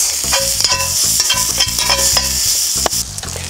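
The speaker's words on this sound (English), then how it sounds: "let's toast some of these spices, the remainder of that blend we talked about" Spices and onions toast in a pan over a campfire for a Moroccan chicken dish, giving a steady close sizzle with repeated scraping stirs throughout and no talking.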